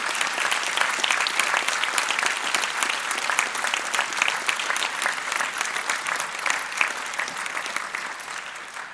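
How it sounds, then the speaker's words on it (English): A graduation ceremony audience applauds families and friends at a University of Sussex winter graduation, sustained dense clapping from a large indoor crowd that fades slightly toward the end. "a round of applause for the families and friends"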